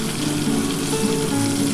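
Katla fish fat frying in a covered pan for a fried brinjal and potato dish, a steady close hissing sizzle with no talk.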